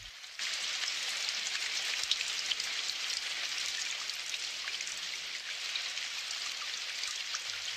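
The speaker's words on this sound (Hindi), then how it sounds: "मुझे बारिश बिल्कुल पसंद नहीं।" Steady rain falls in a cartoon, a constant dense hiss of drops on surfaces beginning abruptly and continuing evenly, with no voices.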